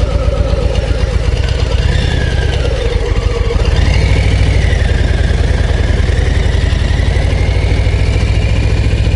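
A Harley-Davidson Low Rider ST motorcycle engine runs steadily for about nine seconds, a loud, close, low-pitched rumble with a constant throbbing pulse, on a mountain road descent from the Semnoz toward Leschaux, with no speech.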